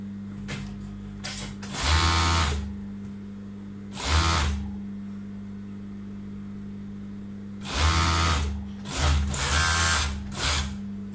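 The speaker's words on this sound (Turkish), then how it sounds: "Overlock'ta dikimimizi yapıyoruz. Şimdi diğer ağını dikiyorum." Overlock serger sewing seams on loose wide-leg trousers, running in several short whirring bursts with quiet gaps and a steady low hum throughout; close and moderately loud, without talk.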